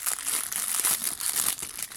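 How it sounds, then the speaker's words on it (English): Plastic toy packaging for a Peanuts Snoopy figurine from a fast-food promotion crinkles and rustles continuously, close and fairly loud, with steady crackling throughout and no talking. "Can you hear all that rustling of the plastic?"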